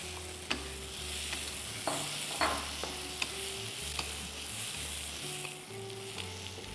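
Fish frying in oil with soft eggplant in a home kitchen: a faint, steady sizzle with occasional light clicks from stirring, quiet and close, with no talking.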